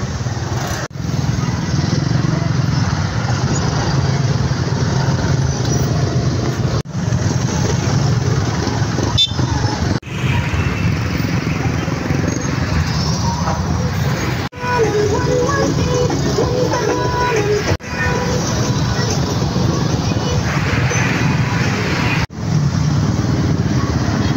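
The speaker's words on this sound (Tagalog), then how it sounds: "I'm stuck in traffic" Busy street traffic during the Sinulog festival with motorcycles and cars droning past, engines rumbling continuously and an occasional horn toot, close and loud throughout.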